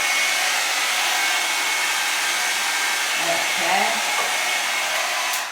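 A heated styling brush blows a steady, loud stream of hot air as it is drawn slowly through a wavy wig, droning evenly throughout with a brief spoken word near the end.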